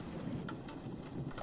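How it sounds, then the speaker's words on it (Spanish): Steady rain falls in a dense, even wash at night, a continuous soft hiss with a few faint drops standing out, with no voices. "Está lloviendo."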